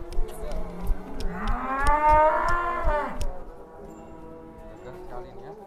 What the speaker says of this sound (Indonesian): Limosin bull.